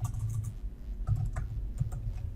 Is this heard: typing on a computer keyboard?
yes